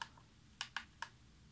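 Keys clicking on a portable Commodore 64 build running the BMC64 emulator: one soft click, then a quick cluster of three sharp, close presses, fairly quiet in a still room.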